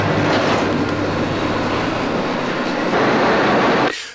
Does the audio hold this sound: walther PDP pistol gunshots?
no